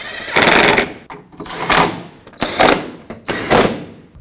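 Headlight mounting bolts being snugged up on a 2003-2007 Nissan Murano, heard as four loud, close bursts of a power tool of about half a second each, separated by short pauses.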